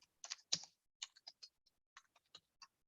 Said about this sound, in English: I'm also just typing in right now.